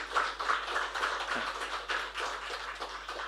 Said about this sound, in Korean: 우리 박수로 한번 안녕하겠습니다